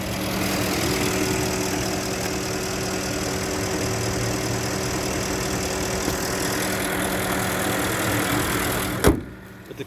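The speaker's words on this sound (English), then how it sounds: "We're just gonna listen to the engine here." A Porsche Cayenne engine idles steadily and close, a smooth continuous hum with a faint low knock, then a sharp thud like a door closing near the end before the sound drops away.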